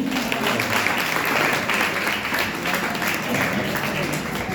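Audience applause at a Republic Day speech event; a loud, continuous wash of clapping from a crowd, evenly sustained throughout with a faint murmur beneath.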